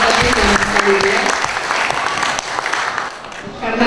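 A room full of people claps steadily and loudly, the applause thinning slightly toward the end, with a voice speaking over it.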